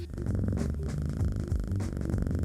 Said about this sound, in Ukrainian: якщо ви будете чути нявкання, урчання, муркання і деякі звуки голуба, це пані Ваніль передає вам привіти